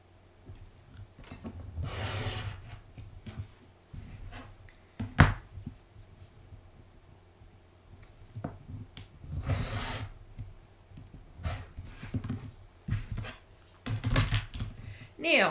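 Sewn quilting fabric pieces are cut in half: a few separated bursts of rasping, rustling cutting noise, fairly close, with quiet gaps and faint handling sounds between strokes.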